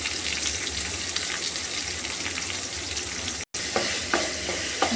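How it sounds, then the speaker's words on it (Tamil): Onion, chili and curry leaves sauté in hot oil with urad dal for beetroot poriyal, giving a loud, steady sizzle that cuts out briefly midway, with a few light stirring clicks near the end. "வதக்கிக்கலாம்."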